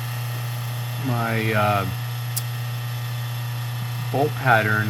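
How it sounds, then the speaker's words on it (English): A rotary phase converter hums steadily in a machine workshop beside a Monarch 10EE lathe, a constant low electrical drone running through the whole stretch while someone speaks briefly over it. "Sorry for the background noise. That's my rotary phase converter."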